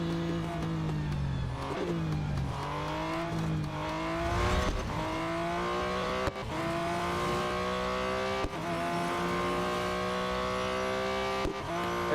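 Ferrari race car engines in the racing game Real Racing 3 whining steadily at high revs, rising and dipping through gear changes, with a few brief clicks over the continuous drone.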